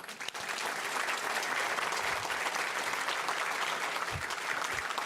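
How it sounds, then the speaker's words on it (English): A seated audience bursts into sustained applause for a panel at a book talk, a dense, steady wash of clapping that stays loud and even throughout. "I just want to give a big round of applause for this panel."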